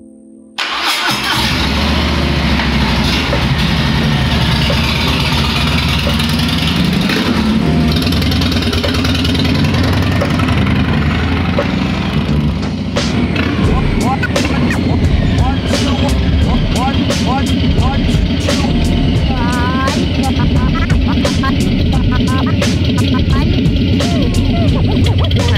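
A Harley-Davidson FXBB Street Bob fires up through a Two Brothers Comp 2 two-into-one exhaust, then holds a loud, deep, rumbling idle with occasional throttle blips, close to the pipes.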